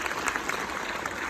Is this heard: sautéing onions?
no